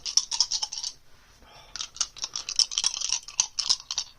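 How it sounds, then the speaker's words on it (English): Wooden dice clatter and rattle during a tabletop game of Bag of Dungeon Legends 2, a close, continuous stream of light knocks and scrapes with a short lull midway. "I love the sound of wooden dice."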